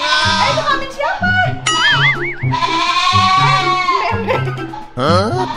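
Goats bleat repeatedly and loudly up close inside a house, wavering cries overlapping with people talking, and a brief high ringing tone sounds in between.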